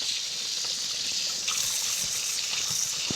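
Tap water runs steadily over raw BBQ pork ribs as they are rinsed, a continuous close trickle and splash with faint handling noises underneath and no speech.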